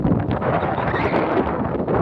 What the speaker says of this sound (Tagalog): malakas ang hangin, pasalubong, hirap magpadyak